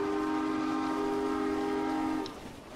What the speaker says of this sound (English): The train is gonna disappear now.